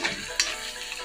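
Onions fry in a pan with chili, turmeric, pepper and curry masala powders for a Kerala-style dry roast, giving a soft, steady sizzle and a sharp scrape of stirring just under half a second in.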